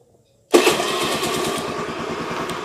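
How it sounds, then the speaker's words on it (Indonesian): A motorcycle engine cranks and catches abruptly after a starter motor repair, then settles into a loud, close, slightly rough idle with a rapid, even pulse. "Memang suara motornya agak kasar."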